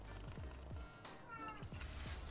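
A cat named Larry meows at a door, several short rising cries in a row, close and clear over a low background hum.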